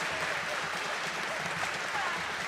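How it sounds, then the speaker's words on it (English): Audience at a school spring concert applauding in a dense, even wash of clapping that holds steady for a couple of seconds, moderately loud and without talk. "I would like to give them another round of applause."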